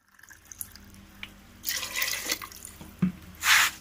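Water is poured from glasses into a cooking pot holding mutton for pulao, with soft splashing and dripping that builds into louder pouring bursts near the end.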